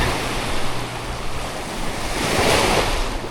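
Ocean surf breaking on a New Jersey beach in fall, a loud continuous roar and wash with wind buffeting the microphone throughout.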